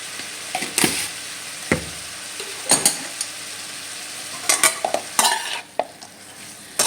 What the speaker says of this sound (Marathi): सगळं छान परतून घ्या पुन्हा एकदा